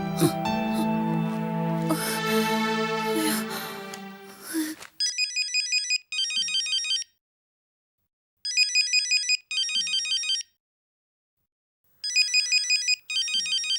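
A mobile phone ringtone plays in repeated bursts of bright electronic trills, separated by short silences. It follows a few seconds of other louder sound and is heard alone, clear and close.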